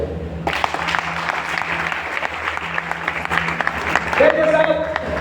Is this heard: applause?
yes